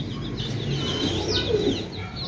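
Young farm chicks kept in a cage chirp and peep in a busy, overlapping chorus of thin high calls, fairly close and continuous, with some soft cooing and rustling beneath.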